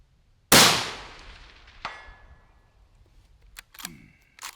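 A Ruger American Predator Gen 2 rifle in 22 ARC fitted with a muzzle brake fires a single loud, sharp shot outdoors in wind, followed by a metallic click and quieter handling clatter.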